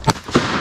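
Two quick shotgun reports ring out during a duck hunt, sharp and fairly close, about a quarter second apart, with a short echoing tail after each.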